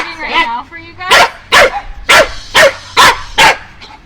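A show dog, distracted by another dog nearby, gives a series of six sharp, evenly spaced barks or yips, close and loud, after a brief whine at the start.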